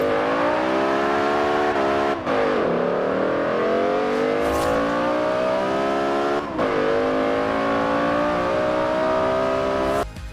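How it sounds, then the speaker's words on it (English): A simulated BMW E60 M5 V10 engine delivers its induction note, a loud, continuous, rising and falling howl of revving with brief dips at gear changes, heard alone. "appreciate the glorious V10 induction note that makes the E60 M5 such a euphoric experience"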